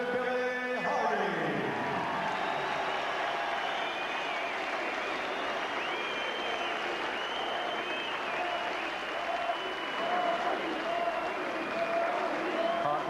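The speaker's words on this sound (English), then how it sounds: "Ladies and gentlemen, a round of applause, please, for this young man who came here to challenge tonight. Let's give him a hand, Mr. Billy Hardy." An arena crowd at a boxing event applauds challenger Billy Hardy after his world featherweight title fight with Prince Naseem Hamed, sustained dense clapping filling the hall for the whole stretch, steady and moderately loud.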